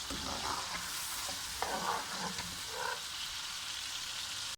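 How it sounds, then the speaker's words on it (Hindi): Steady, loud sizzling of onions frying in a hot pan, a continuous crackling hiss with occasional bursts of spattering. "अब मैं प्याज को फ्राई करूँगी।"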